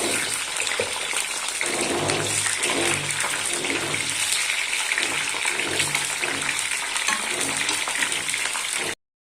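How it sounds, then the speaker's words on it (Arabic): Peppers fry in a pan of hot oil for moussaka, giving a loud, steady, close hiss and sizzle that carries on without a break before cutting off abruptly at the end. "انا قريت اهو البتنجان، هننزل بالفلفل بقى."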